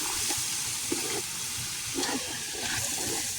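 Onions sizzling in hot oil while being stirred in a pan for stuffed papad curry, a faint steady frying hiss with soft scraping stirs, no talking.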